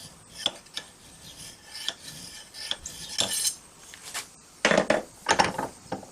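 Hand file rasping on a knife cross-guard being fitted to the blade, a series of short scraping strokes, some light and a few louder, close up with no talking.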